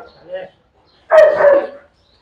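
Bully breed dog giving a short bark or yelp indoors near a cat, one sharp burst lasting under a second after a brief faint sound, close and fairly loud, with no talk over it.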